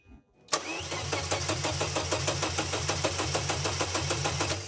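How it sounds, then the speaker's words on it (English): A BMW 850 cranks and catches after a faint pump whine, then settles into a steady, loud, rhythmic engine run with regular pulsing, heard up close with no talking. "So it has fuel because I hear the fuel pump running."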